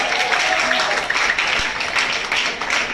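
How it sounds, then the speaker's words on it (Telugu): A crowd at a women's welfare gathering in Chittoor district claps loudly. The dense applause runs steadily without a break and with no clear speech. "గట్టిగా చప్పట్లు,"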